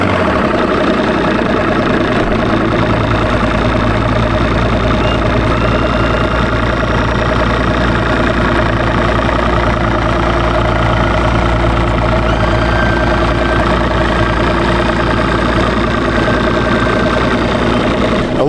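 A Mercury 2-stroke 250 Pro XS outboard engine on a 2008 Z520 bass boat idling, a loud, steady low rumble with an even throb that holds unchanged throughout, close up and without talk.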